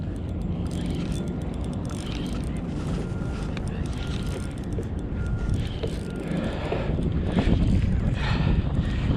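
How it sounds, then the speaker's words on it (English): Wind gusting over a sea kayak on open water, a steady rushing roar buffeting the microphone that swells louder toward the end, with splashing water underneath. "Wind's not helping though."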